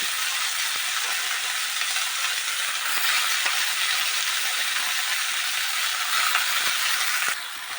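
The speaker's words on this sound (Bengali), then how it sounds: "এবার আমি শাকটাকে এর মধ্যে দিয়ে দেব এবার আলুটাও এর মধ্যে দিয়ে দেব" Leafy greens and potato frying in a pan, a loud, continuous crackling sizzle throughout, with occasional light clicks of stirring and a slight drop in intensity at the end.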